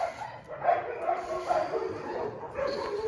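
A group of dogs at a mountain base bark, yip and whimper continuously, overlapping calls at mid distance with some human voices mixed faintly underneath.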